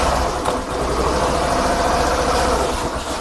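A second-hand motorcycle at a used bike market runs at a steady idle, its low engine rumble continuous and fairly loud throughout, with no voices.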